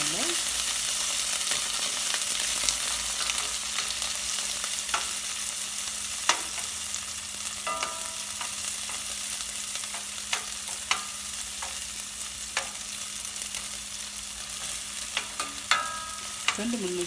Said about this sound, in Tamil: கருவேப்பிலை, அப்படியே வதங்க விடுங்க எண்ணெயில்